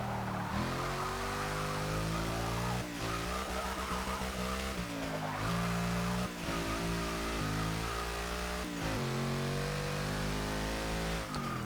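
2012 Mercedes-Benz C 63 AMG Coupé Black Series with twin turbochargers accelerating hard while struggling for traction: a loud, close engine roar climbing through several gear changes, with brief dips between shifts.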